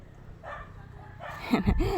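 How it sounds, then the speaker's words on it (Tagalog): A dog barks a few times, close by and moderately loud, at a house outdoors under cloudy, windy skies, with the sharp yips bunched near the end over a faint background. "Mayroong aso guys, natatakot."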